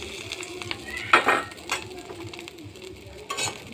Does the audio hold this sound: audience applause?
no